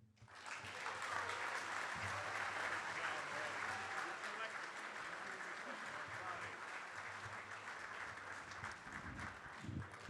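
An audience at a high school football players-of-the-year awards ceremony applauds in a dense, sustained wash of clapping with some cheering, steady for the whole stretch.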